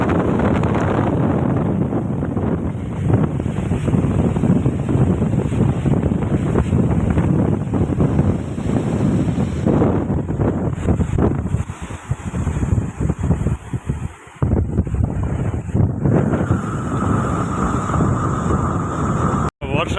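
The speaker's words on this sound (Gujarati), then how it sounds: "ખૂબ જોરદાર પવન ચાલી રહ્યો છે અત્યારે આપણે અહીંયા" Strong pre-storm wind buffets the microphone with a loud, continuous roar that rushes and gusts for the full twenty seconds, while a voice talks underneath it.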